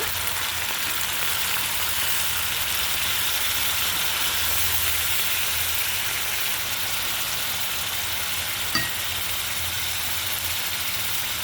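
Water added to a pan of fried onion paste brings on a continuous hissing sizzle with steady steam, broken by one small knock near the end.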